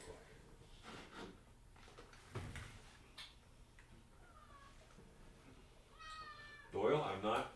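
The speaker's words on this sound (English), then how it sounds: "Doyle, Jonesy, so many kitties" Pet cats meow indoors: a few scattered faint sounds at first, then two clear, rising meows near the end, the last one louder and close by, over a low background murmur.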